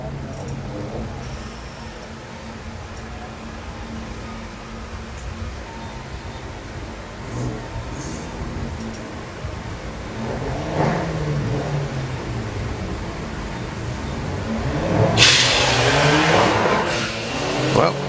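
A TDI Skoda Fabia launches hard down a drag strip, its diesel engine rising in pitch and loudness as it pulls away, over crowd ambience and a commentator's voice.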